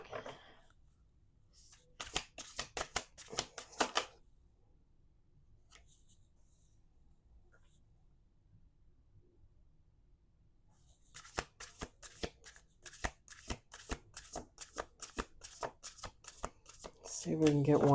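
Cards being shuffled for a tarot-style reading, two bursts of rapid riffling clicks close to the microphone separated by a quiet pause, with soft talking during the gap.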